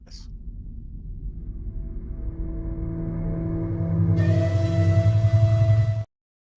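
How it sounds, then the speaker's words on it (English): Low rumbling background music swells gradually with droning tones, brightening near the end before cutting off abruptly; faint voices may sit beneath it. "It's random free music I found on YouTube"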